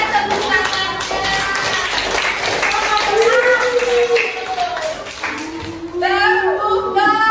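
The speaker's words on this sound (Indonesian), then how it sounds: "Tepuk tangan buat kelompok 4" A classroom of students claps for a presenting group, with rhythmic tapping applause under children's voices chanting and talking throughout.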